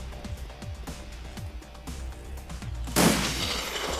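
Gunshots in the tactical role-playing game Shadowrun Returns: a run of sharp, evenly spaced shots over a low hum, ending in a louder crashing burst.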